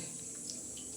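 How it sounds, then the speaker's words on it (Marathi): Water pours into a plate while jaggery sweets are made, a faint, steady hiss of running water throughout the short moment with no break. "आता आपण ताटामध्ये पाणी घेणार आहे"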